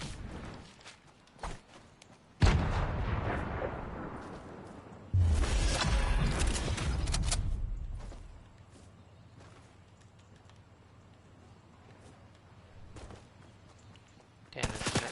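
Rapid gunfire bursts from hip firing in Fortnite, loud close shots in clusters followed by a sustained barrage, then quieter in-game ambience with scattered footsteps and a final short burst.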